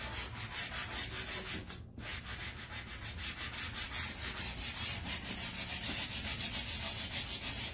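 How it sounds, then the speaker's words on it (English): Paper wall decor is rubbed back and forth against the edge of a table to sand it down, giving steady rhythmic scratchy strokes with a short break early on before the strokes quicken and grow a little louder. "Maybe I'll sand it off the edge of the table."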